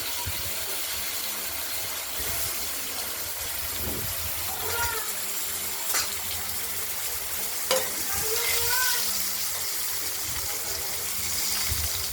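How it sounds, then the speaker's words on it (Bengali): Potatoes fry in hot oil for a fish curry, a steady close sizzle broken by occasional stirring clinks and scrapes. "এবার আলুগুলো ছেড়ে দিলাম, তেলটা গরমে আছে।"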